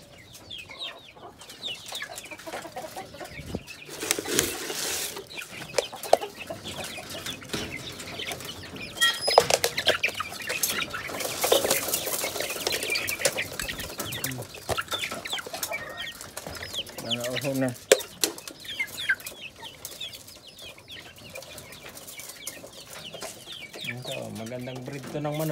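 Peruvian-Brazilian cross chickens clucking, with occasional wing flapping and rustling, close and irregular, while a person talks intermittently.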